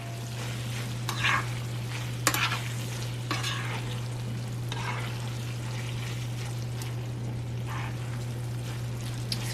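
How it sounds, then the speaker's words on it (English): Alcapurria filling being stirred in a frying pan, with steady sizzling and several scraping spoon strokes at irregular intervals, close and moderately loud with a constant low hum beneath. "We're gonna come and mix this one more time"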